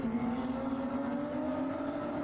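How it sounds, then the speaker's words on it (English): Porsche Carrera Cup race cars lapping the Hockenheim circuit, a steady loud engine drone with a strong sustained tone and no break, heard alone without talk. "14 laps of the Hockenheim circuit for this, the Porsche Carrera Cup"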